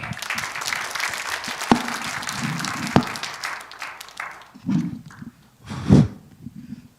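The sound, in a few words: audience applause for the pastor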